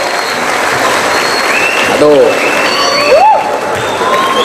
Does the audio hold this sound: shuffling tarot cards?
no